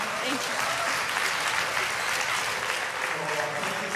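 Dense, even applause fills a church gathering throughout, a steady wash of many hands clapping with no break.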